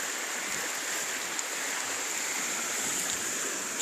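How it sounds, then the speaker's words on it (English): A brook flows past a concrete pipe outdoors, a soft continuous rushing and trickling wash at low level, steady without pauses or speech. "Here's the brook."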